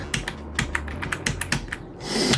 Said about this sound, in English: Why am I clicking? Why?